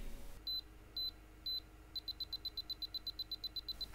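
Three evenly spaced high-pitched electronic beeps, then a rapid run of shorter beeps at a steady fast rhythm, clear against faint background hiss.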